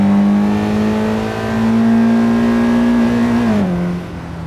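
A 2026 Honda Prelude with a CVT cruises on a California highway, its engine droning in a loud, steady hum close inside the cabin that rises slightly and then drops away near the end, with no speech.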